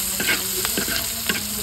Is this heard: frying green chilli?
yes